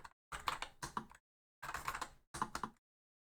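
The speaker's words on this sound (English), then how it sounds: "That key rattle really is making a difference." Typing on a KSI-Wombat Willow Pro keyboard, keys rattling as they clack. Three close bursts of quick strokes, separated by short pauses.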